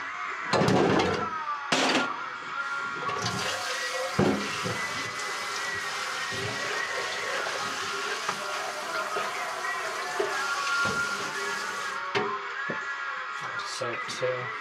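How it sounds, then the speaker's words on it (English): Tap water runs as garlic is rinsed in a home kitchen, a soft hiss of flowing water with a few clunks and splashes, with a person talking over it. "This deserves a rinse."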